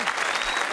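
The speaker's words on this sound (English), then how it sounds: "Give them all a great round of applause." Studio audience on a TV game show applauds the contestants, a dense, steady wash of clapping that fills the short moment at even loudness with no talk over it.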